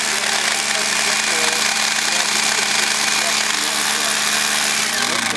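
A rock drill bores into rock and hammers continuously at a loud, steady level for the whole stretch, with no break.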